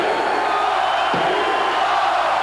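Roaring arena crowd at the 1989 Atlantic 10 Tournament final basketball game between Rutgers and Penn State, a loud continuous wall of cheering and yelling with a brief thump partway through.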